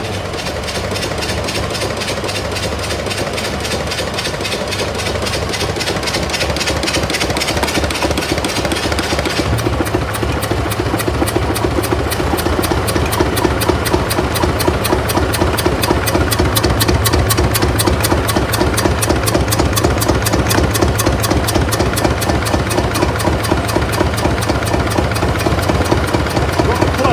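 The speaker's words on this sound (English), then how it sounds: "Probably some of you don't know whether the engine started and it's driving the tractor, but it's not." An old tractor engine runs steadily while belt-driving a baler on a trial run, a rapid rhythmic chugging and clattering that grows louder and busier partway through as the baler mechanism thumps along, close and continuous.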